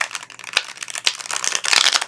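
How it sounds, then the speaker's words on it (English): A deck of tarot cards being shuffled, a quick, close flurry of crisp riffling and flicking snaps that builds into a denser burst toward the end. "just want to give these cards one more shuffle"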